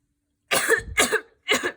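A voice imitates coughing: three rough, close coughs in quick succession, the last after a short pause.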